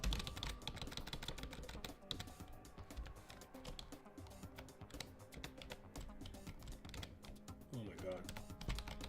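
Rapid clattering keystrokes on a computer keyboard run steadily throughout, quiet and close, with a man's brief exclamation over them.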